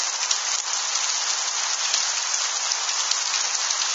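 Heavy rain from a strong multicell thunderstorm pours down at Tour-en-Sologne, France, in May 2014. It makes a dense, steady, loud hiss with no breaks and no voices.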